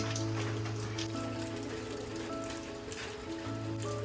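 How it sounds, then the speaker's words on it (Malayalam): A steady, dense wash of heavy rain falls in Munnar, with background music playing over it. "നല്ല മഴയാണ്"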